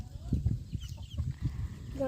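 Low, soft clucking from chickens close by, in short repeated bursts with faint background noise and a brief higher chirp near the end.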